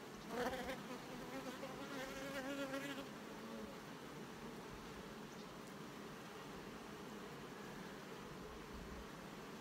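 Honey bees crowding a hive frame full of brood and honey with a laying queen: a close, steady, dense buzzing hum that swells briefly at the start, then settles into a constant drone.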